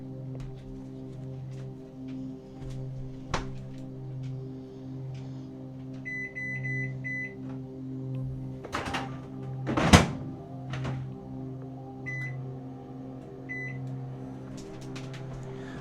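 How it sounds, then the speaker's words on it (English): A microwave oven runs with a steady low hum while heating 500 ml of water in a lab setting, with a few short beeps from the keypad and a couple of door thunks partway through. "So I'll put that in the microwave and start that at about 4 or 5 minutes"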